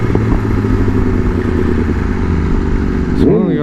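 A motorcycle engine runs steadily and loudly nearby with a rough, throbbing idle, and a voice breaks in at the very end.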